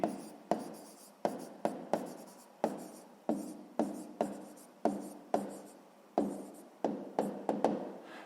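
Handwriting on paper while working a sixth-grade maths exercise: repeated short pen strokes with sharp starts, about a dozen bursts in a steady scratching rhythm, close and moderately quiet, with no voices.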